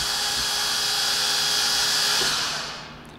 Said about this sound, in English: Whenever you hit the foot pedal and the machine is engaged, meaning you have it on and the emergency stop isn't engaged, your spindles are gonna start.